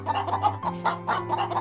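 Hens of several kinds clucking in a farm shed, a few short, close, uneven bursts of throaty cackling over a steady low hum.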